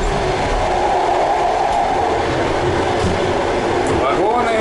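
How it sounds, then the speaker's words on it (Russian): Train cars rushing past close by during a New Year's train trip, a loud continuous rumbling roar of wheels and carriages with faint clatter, steady throughout and with voices mixed in. "Вагоны меняются, проносятся."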